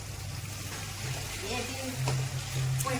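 Steady sizzling and crackling of onions frying in hot oil with bay leaves, close up, with voices talking faintly in the background.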